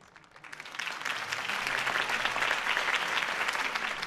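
Crowd applause following Harvey Dent's campaign speech in Batman: The Telltale Series, rising from quiet to sustained, dense clapping from many hands.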